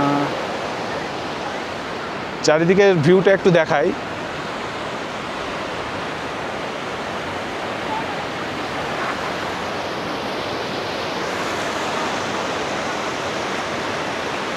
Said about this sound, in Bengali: এই যে নিচে দিয়ে এখানে ঝর্ণা যাচ্ছে, ঝর্ণা।